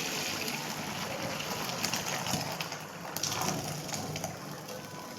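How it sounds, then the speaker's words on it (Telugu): Water from boiled rice pours through a perforated steel colander, a steady rushing gush with splashy spikes, close and fairly loud, with no talk over it. "ఇలాగా చిల్లులుగా గిన్నె ఒకటి తీసేసుకొని దాంట్లో మనము వాటర్ అంతా వంచేద్దామండి"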